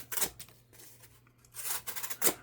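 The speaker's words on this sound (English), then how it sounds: "It'll cut the cardboard for you." Knife blade slicing through cardboard, a few short, close, rasping tearing strokes with a pause between them, quiet and without talk.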